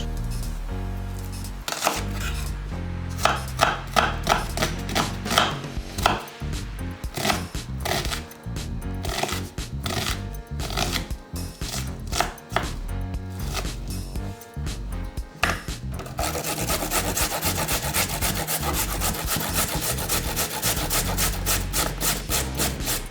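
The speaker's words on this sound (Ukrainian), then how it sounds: "Дотираємо пів моркву, такої, як у мене." Half a carrot is rubbed against a grater for a light soup, producing a long run of rhythmic rasping strokes that turn faster and more even near the end, close and steady with no talking.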